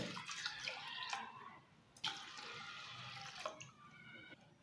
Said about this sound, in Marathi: 2 ग्लास पाणी आपल्याला टाकायचं आहे त्याच्यात